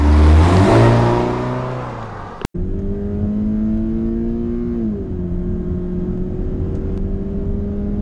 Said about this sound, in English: When you downshift, it rev match the car for you.